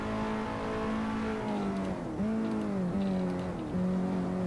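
A KTM X-Bow's engine in an online racing video game holds a steady, buzzing drone, dipping and climbing again at each of three quick gear shifts, with no voices.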